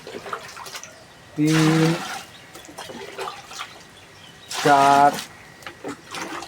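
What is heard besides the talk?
five litres of water poured into a container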